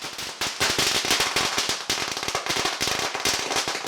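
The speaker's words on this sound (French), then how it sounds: "Une fois tout cela fini, c'est l'heure des pétards." A rapid, dense string of loud firecracker bangs crackles continuously, sharp pops overlapping in quick succession, at a street festival in Hainan, China.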